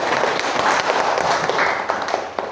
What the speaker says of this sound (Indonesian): Ya, udah tepuk tangan dulu.